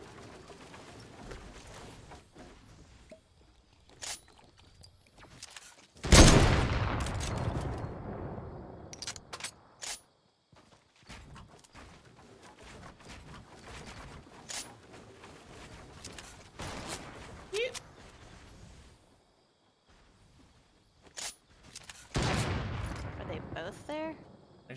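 Gunfire in the Fortnite video game, scattered shots and bursts ringing out between stretches of quieter game sound, with players talking over it.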